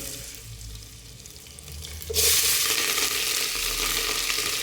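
Fenugreek and cumin seeds hit hot oil and burst into a loud, steady sizzle that jumps up suddenly and keeps crackling, after a quieter stretch of low background noise.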